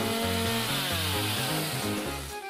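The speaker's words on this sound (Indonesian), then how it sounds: "Waktunya menggergaji." Power saw cutting wood, a loud, steady engine buzz with stepped shifts in pitch as the blade bites, filling the whole moment close up with no voices.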